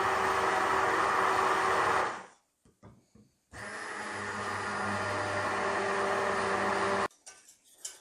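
A hand blender whirs through low-fat mayonnaise mixed with water in two loud, steady bursts of about two and three and a half seconds, with a brief near-silent pause and faint clatter between them.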